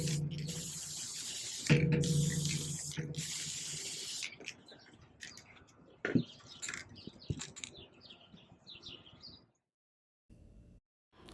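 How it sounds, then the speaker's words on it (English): Spray paint can hissing in several long bursts, loud and close, followed by shorter intermittent sprays and clicks before going quiet. "I know I'm not the only one that enjoys the sound of spray paint"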